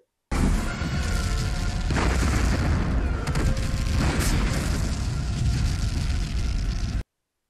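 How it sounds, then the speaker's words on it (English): An explosion in the Babylon 5 pilot movie, a sudden loud booming blast that rumbles on with crackling debris for several seconds before cutting off. "Brace for explosion!"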